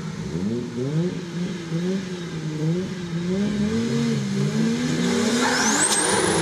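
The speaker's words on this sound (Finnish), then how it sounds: "Ja sitten valo jälleen vihreää. Ja autot liikkeelle." Pro2 drift cars at Lapua, Finland, setting off together: loud, layered engine notes rising and falling in pitch through gear changes, growing steadily, with a rising whine near the end.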